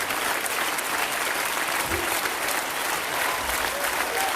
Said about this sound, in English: One more round of applause, please. Keep it going.